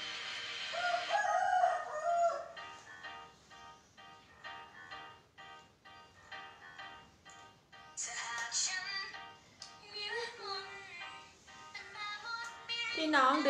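A rooster crows several times in a row. The crows are fairly quiet and sound somewhat distant, with short pauses between them.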